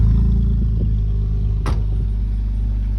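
A car with a muffler delete idles with a loud, deep rumble, one brief sharp clatter in the middle, close and steady.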